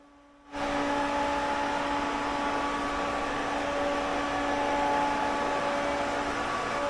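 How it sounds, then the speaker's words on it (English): Spray gun applying Upol clear coat to a 1966 Mustang panel: a steady, loud, continuous hiss that starts abruptly and holds evenly, with a faint tonal hum underneath. "now I can apply 2 coats of the upol clear coat"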